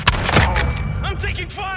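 Sharp gunshots crack and boom in a Call of Duty Modern Warfare gunfight, loud and close, with voices calling out over the shots.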